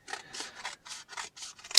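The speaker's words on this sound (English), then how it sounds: "take a pair of scissors, and literally cut it directly down the middle" Scissors slice down the middle of a 6x8 shipping envelope in a series of about eight rapid, crisp cutting strokes, close and fairly quiet, with no voices.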